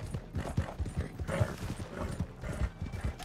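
Horse hooves clip-clop in a quick, steady galloping rhythm during a multiplayer horse race in the video game Red Dead Redemption 2 Online, close and continuous with no talk.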